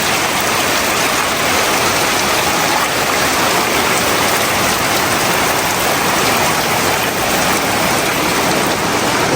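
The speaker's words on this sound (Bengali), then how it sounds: "পাহাড়ে ঝুম বৃষ্টি হচ্ছে" Heavy rain pours down in the hills in a dense, unbroken roar, loud and close, with no voices over it.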